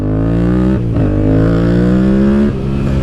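Yamaha MT-07 motorcycle engine revved close up, a loud, steady rumble that dips briefly near the start, then climbs and holds before dropping off at the end.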